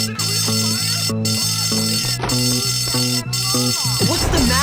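Fire alarm ringing in the video game Bully, a repeating electronic tone pattern cycling in regular bursts, with brief sharp breaks and a jumble of game sound near the end.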